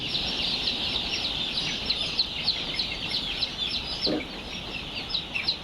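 Many small Tiger-breed chicks being brooded cheep continuously in a busy, overlapping chorus, with an occasional low cluck from a bird nearby.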